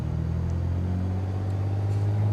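Engine of a Piper Turbo Arrow running steadily in Microsoft Flight Simulator 2020: a loud, constant low droning hum with a slight pitch rise, no speech over it.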